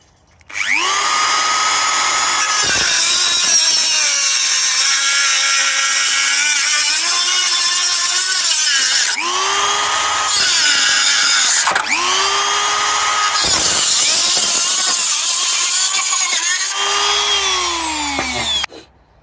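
A power tool cuts through clamped sheet metal for a fabricated hood release, a loud, high-pitched whining screech that runs in several long passes with brief pauses between them, no talking.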